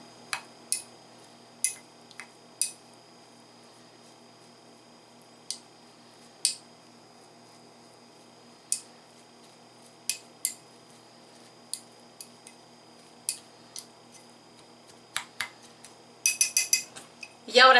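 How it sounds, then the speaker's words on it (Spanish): A carrot and lemon peel mixture is stirred in a container, giving light scattered clicks and scrapes of a utensil at irregular intervals, with a quicker burst of clatter near the end and a quiet background between strokes. "La vamos a revolver bien"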